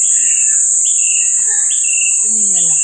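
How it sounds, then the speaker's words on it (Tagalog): Birds chirp in an eco park with short, clear calls and tweets scattered over a constant high insect-like buzz, fairly close and with no talking. "May ibon."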